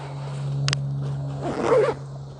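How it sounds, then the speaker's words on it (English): A quick, sharp zip on a backpacking chair's storage bag near the start, followed by soft rustling and handling noises over a low steady hum. "Nice, easy zipper."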